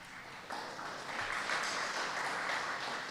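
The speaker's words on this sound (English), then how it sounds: "Let's hold the applause till the end" An audience at a high school academic awards ceremony applauds steadily, a dense wash of clapping that swells slightly and holds for a few seconds.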